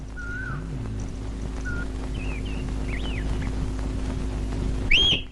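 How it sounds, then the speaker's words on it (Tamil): Whistling by a person in a home, brief rising and falling tones scattered over a low steady hum, ending in a louder sharp upward whistle. "என்னம்மா விசில் எல்லாம் அடிக்கிற?"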